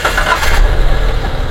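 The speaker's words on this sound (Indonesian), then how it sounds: "Ini udah kita starter." A 2018 Daihatsu Grand Max engine cranks and catches, then settles into a loud, close, low rumble within about a second and a half, with no voices.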